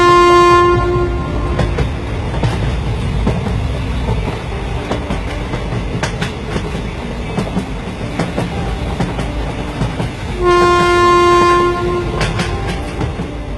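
Train running in a cartoon story: a steady, loud rolling rumble with clattering, and a drawn-out horn blast at the start and another near the end, with no talk.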